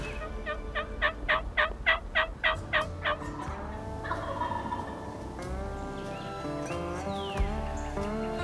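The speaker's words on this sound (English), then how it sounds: "We can hear them gobbling just right over the ridge here." Wild turkeys gobble during a spring turkey hunt: a loud burst of rapid rattling gobbles comes from nearby at the start, followed by fainter gobbles and other bird calls in the background.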